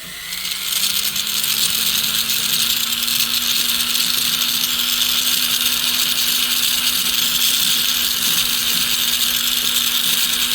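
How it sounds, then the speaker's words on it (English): A rotary tool fitted with a silicone wheel grinds down the sides of a ring, spinning up to a steady high whir with a sustained tonal hum that runs continuously and loudly for about ten seconds. "Now I'm just kind of filing these sides down with a silicone wheel"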